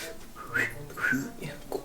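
Someone tries to whistle, producing a few short, breathy, wavering tones between faint airy noise, close and fairly quiet.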